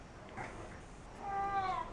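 Cat meowing outdoors, a single drawn-out rising-then-falling meow near the end over steady background noise.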